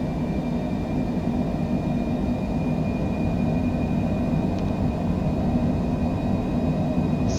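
Twin jet engines of a Cessna Citation C700 hold takeoff thrust in Microsoft Flight Simulator, a dense, steady roar with a thin high whine on top, sustained and unbroken.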